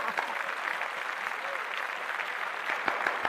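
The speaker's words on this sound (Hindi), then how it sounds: "तालियां" A small group applauds at a police outpost to welcome its first woman inspector, an even patter of clapping at moderate level with some voices mixed in that swells slightly toward the end.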